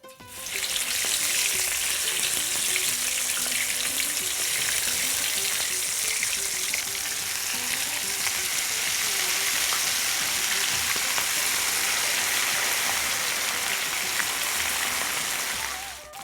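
Chicken samosas deep-frying in hot oil produce a dense, continuous bubbling sizzle that stays loud and even from start to finish, with no talking.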